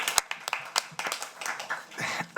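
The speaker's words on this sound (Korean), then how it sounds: "박수로 청해 주시면 감사하겠습니다." Audience at a policy seminar claps in a short burst of scattered, uneven hand claps, fairly close and sparse rather than a full roaring applause.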